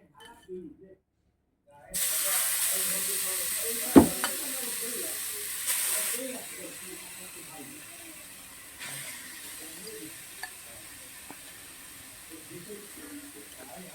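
After a brief near-silence, grated carrot drops into hot melted ghee and erupts into a loud broadband sizzle with a clatter of the pan, then settles into a steady, gradually softening hiss.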